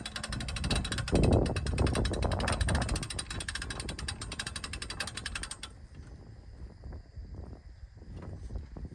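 Steady, rapid mechanical ratcheting clicks from a hoist lifting a hog run for several seconds, loud and close, then stop abruptly, leaving lower clattering and faint scraping noises.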